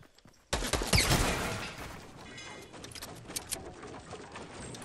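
Suppressing gunfire in Fortnite: a loud burst of rapid shots starts abruptly, then continues as scattered, quieter cracks and rattles, with no talking.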